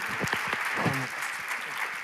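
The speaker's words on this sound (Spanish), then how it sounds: "para quien pido un fuerte aplauso" Applause from a church event audience, a quiet wash of clapping with some crowd noise and a brief voice-like sound mixed in.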